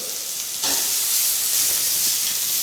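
Lobster shells with peppercorn and salt sizzling in a hot pan, a steady bright frying hiss that swells louder partway through and continues without pause.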